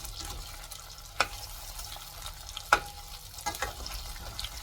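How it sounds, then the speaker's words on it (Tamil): Taro root pieces fry in hot oil with a soft, constant sizzle, broken by a few sharp pops and crackles close to the pan. "அழகாக பொரிஞ்சு வந்துட்டு இருக்கு."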